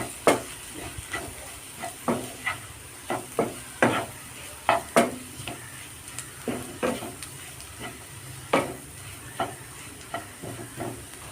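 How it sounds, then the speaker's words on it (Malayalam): A spatula scrapes and clatters against a frying pan in quick, repeated strokes while eggs are stirred in, over a quiet sizzle. "നന്നായിട്ട് ഇളക്കി കൊടുക്കാം"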